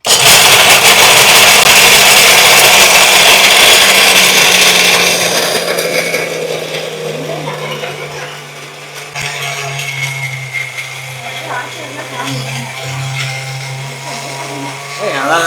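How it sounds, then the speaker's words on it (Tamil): An electric mixer grinder spins nuts into powder with a loud, steady whirring roar that fades partway through to a lower, lighter hum as the jar keeps running, close up. "அடுத்தது நம்ம இது மிக்சியில் போட்டு அரைக்க போகிறோம்."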